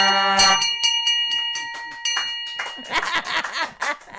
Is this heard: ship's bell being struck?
yes